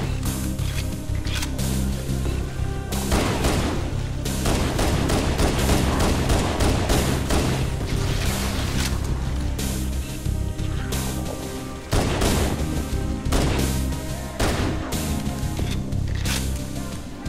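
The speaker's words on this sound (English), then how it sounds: "They'll eventually start shooting at you." Enemy gunfire in Halo, dense rapid bursts of shots and crackling impacts filling the whole stretch, loud and close, with a brief pause near the middle before firing resumes.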